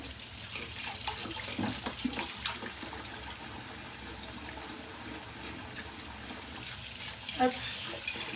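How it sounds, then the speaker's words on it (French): Running tap water pours steadily as a wire whisk is rinsed in a kitchen sink, a continuous splashing wash with a few brief clinks and sharper splashes near the end. "Alors je vais juste me laver le fouet aussi."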